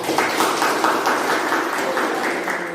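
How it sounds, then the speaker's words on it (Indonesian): A classroom group claps together after a student presentation, a dense steady patter of many hands at close range that fills the whole stretch. "Kita tepuk tangan dulu."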